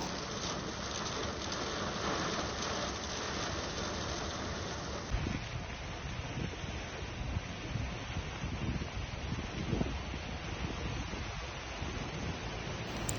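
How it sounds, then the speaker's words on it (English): Heavy rain pours during a storm with strong winds in Mecca and Medina, a dense continuous hiss of falling water mixed with gusty rumbles and no voices. "Strong winds almost completely locked off visibility, heavy rains and lightning strikes."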